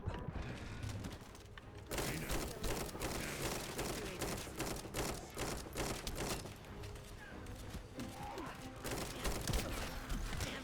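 An assault turret in The First Descendant firing steadily, a dense continuous rattle of rapid gunfire and mechanical clatter that keeps going throughout at moderate volume, without speech.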